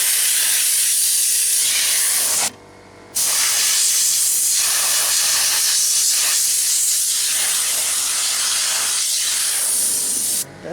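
Loud, steady spray of compressed air blowing dirt out of an RV rooftop air conditioner, a continuous hissing blast that cuts out for about half a second partway through, then resumes and runs to the end.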